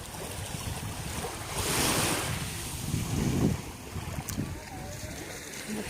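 Sea waves and surf on a warm-water shore, a steady wash of breaking water swelling and receding a couple of times, with wind buffeting the microphone and no clear talk.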